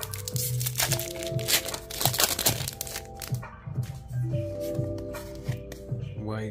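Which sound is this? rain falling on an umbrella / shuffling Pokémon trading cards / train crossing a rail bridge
shuffling Pokémon trading cards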